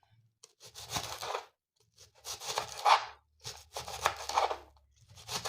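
A hard onion being sliced with a knife, giving three bursts of crisp crunching, cutting strokes with quiet pauses between them.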